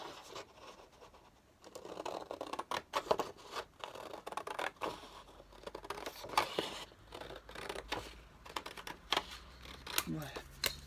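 Scissors cut out a traced paper figure in a series of close, crisp snips and rustling paper scrapes, with a quiet voice speaking now and then.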